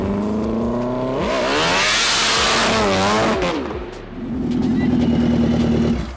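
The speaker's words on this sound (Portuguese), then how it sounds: "barulho do turbocharger" A drift car's engine roars and revs hard, its pitch sweeping up and down with turbocharger whine and whoosh, loud and close, dipping briefly before climbing again into a sustained high rev.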